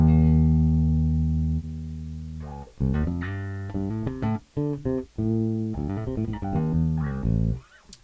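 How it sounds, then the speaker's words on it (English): Bass guitar played through a clean DI signal with no amp simulation or cabinet, one sustained low note followed by a run of plucked notes with clear attacks, close and dry with no talking. "Alright, that's the DI signal."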